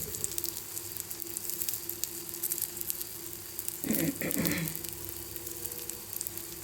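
Oil sizzles over handvi as it fries, a moderate crackling hiss with a steady tone underneath and a louder burst of spattering midway, no talking.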